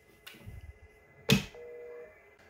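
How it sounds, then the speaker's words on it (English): Dialing an extension on a Fanvil i53w touchscreen desk phone: a few soft taps, then one sharp click followed by a brief steady tone, close and quiet in a still room. "For example, extension 113, dial, will dial another phone."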